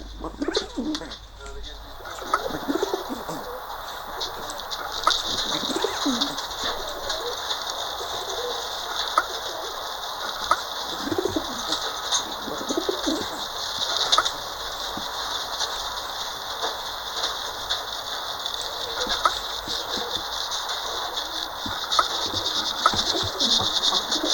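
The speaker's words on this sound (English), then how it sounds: "It's bird feeding time." Pigeons coo steadily at a bird feeding, soft repeated calls layered over a constant busy outdoor hum with fluttering and scattered rattles throughout, fairly loud and continuous, without clear speech.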